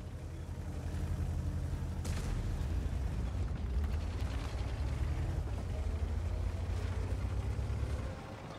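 A deep, rumbling tank explosion in World of Tanks as the ammunition rack is hit, with a sharp burst, followed by a sustained roar and crackling debris that fades out near the end.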